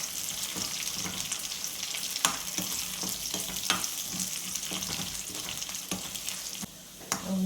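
Chillies and curry leaves fry in hot oil for a thiyal curry, giving a continuous loud sizzle with crackling pops and occasional stirring knocks, and no speech.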